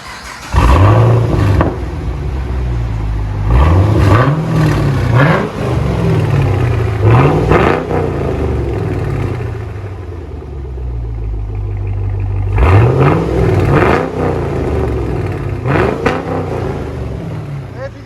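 Loud, close revs from a Chevy Camaro SS with a 6.2L LS3 V8, running straight pipes with a muffler delete and 4-inch tips, parked. Repeated sharp rises of throttle fall back to a rumbling idle, with a pause midway before another burst of blips.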